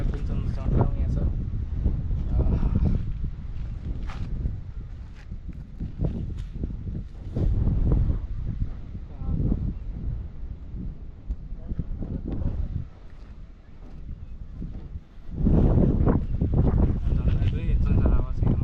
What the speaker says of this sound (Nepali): झन्डा हावा चाहिँ मस्त चलिरहेको छ है